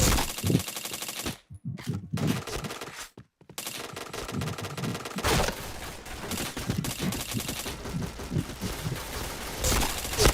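Rapid gunfire in the video game Point Blank, loud bursts of automatic shots with brief silent gaps early on, then continuous dense firing to the end, no talking.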